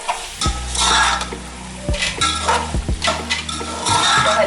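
Cut potatoes fry in a pan for veg kabuli pulao as they are stirred, with a steady sizzle broken by repeated sharp scrapes and clinks of a utensil against the cookware, close and clear.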